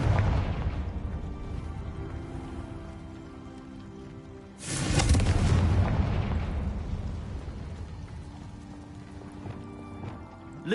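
Confringo spell blast in Hogwarts Legacy, a loud broadband burst midway that erupts suddenly and rumbles off slowly over a steady game ambience bed.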